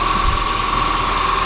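A Volvo 240 engine idling a touch fast, giving a steady, continuous close-up drone with a constant hum and no voices over it.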